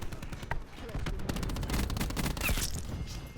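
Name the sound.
gunfire and cluster grenade in a video game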